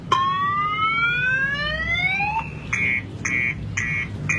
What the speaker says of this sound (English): It detects movement, like if the bike's being moved or moving around, and then this alarm goes off, kind of like a car alarm.